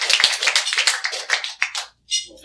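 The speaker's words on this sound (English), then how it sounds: "give him a round of applause" Applause from a seminar audience welcoming a speaker: a short burst of dense, overlapping hand claps that thins out and stops, then a few last scattered claps.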